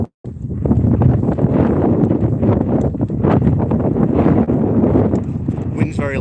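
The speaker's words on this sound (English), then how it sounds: "Wind's very loud, and I'm sorry about that today." Loud, continuous wind buffeting a microphone outdoors on a morning walk, a dense steady roar lasting throughout and swamping everything else.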